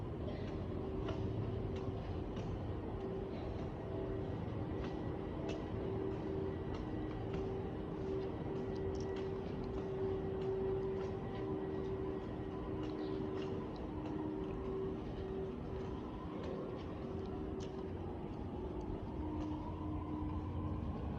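A Sydney Metro train at Martin Place station, with a steady underground rumble and a sustained tonal whine running through most of the stretch, set against continuous platform ambience without speech.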